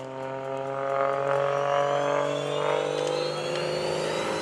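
Aerobatic airplane flown by Gary Ward at the 2013 Greenwood Lake airshow, its engine droning loud and steady with a slowly falling pitch as it passes, heard alone without talk.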